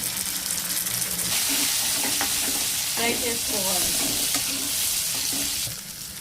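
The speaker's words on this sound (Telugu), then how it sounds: "ఆనియన్స్ ఫ్రై అయిన తర్వాత టమాటో వేసుకొని ఫ్రై చేసుకోవాలి" Onions and tomato fry in a pan with a loud, continuous sizzle, and the stirring brings scraping and bubbling bursts that stay close throughout.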